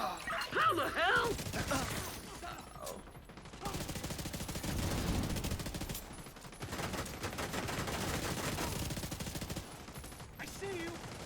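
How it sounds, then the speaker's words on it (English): Heavy gunfire in a shooter video game, sustained rapid bursts and explosive cracks layered over one another with scattered voices talking throughout, dense and continuous. "Taking heavy fire."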